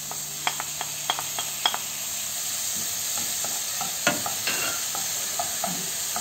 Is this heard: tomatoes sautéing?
yes